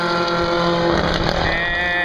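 Engines of race cars passing during a race, a loud sustained engine drone with rising and falling tones as cars go by, fairly close and with no talk.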